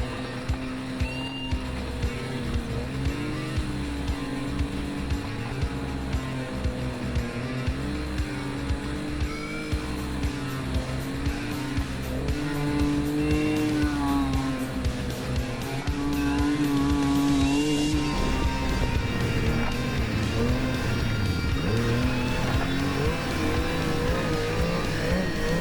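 A heavy 4-stroke snowmobile drones steadily along a snowy trail, its engine rumble and track noise continuous and close, with the pitch rising and falling slightly as it rides.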